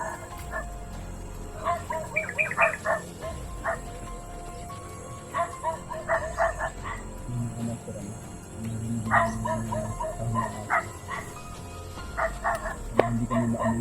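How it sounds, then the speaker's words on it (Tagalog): Dogs bark in a mountain area of a video game, sharp clustered yips and barks in several bursts, with voices talking over them and a low drone beneath. "At yan, may aso pa sila."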